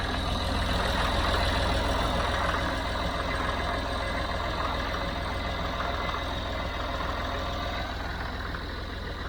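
A three-cylinder Massey Ferguson MF50 tractor engine runs at a steady idle, a loud, continuous low throbbing close by; any occasional cyclical knock is not distinct, and no one speaks.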